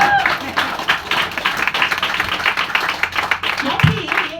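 Audience applause for a woman at a lifestyle-marketing training session, a dense wash of clapping from a room full of people filling the whole stretch, with some voices mixed in.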